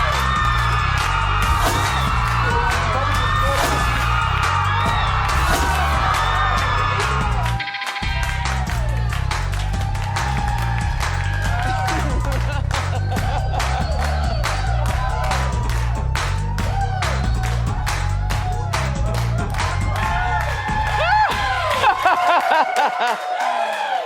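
Talk-show studio audience at a live taping yelling, whooping and cheering loudly and continuously, a dense sustained roar with a brief dip partway through before it swells again and cuts off.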